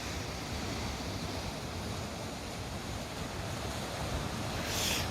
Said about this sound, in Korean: 바로 밑으로 이렇게 파도 치는 거 볼수도 있고.